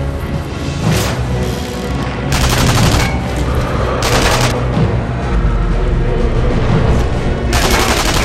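Loud gunfire in Sniper Elite V2 rattles out in several rapid bursts, sharp volleys separated by short gaps over a rumbling battle backdrop.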